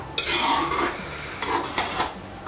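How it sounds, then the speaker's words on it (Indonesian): A spoon stirs a pot of Balinese pork soto, scraping and sloshing in a few uneven strokes against the metal, close up over a steady hiss of the simmering stove. "Jadi kita aduk dulu."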